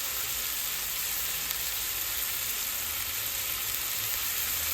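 Burger patties sizzle steadily in a frying pan on a stove, a dense, even hiss that holds at constant loudness with no talking over it.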